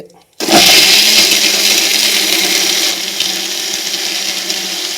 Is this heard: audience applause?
no